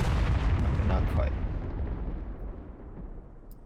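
Heavy tank cannon fire in the World War II game Second Front, a big booming blast that rolls and decays slowly over several seconds, with a voice briefly audible over it.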